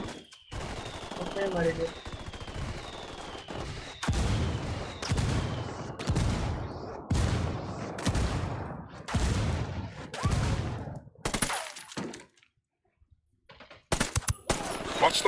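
Repeated gunfire bursts from a church ring out in Ghost Recon Wildlands, loud rhythmic volleys spaced about a second apart, with a brief quiet gap near the end before sharp shots resume; a voice speaks briefly.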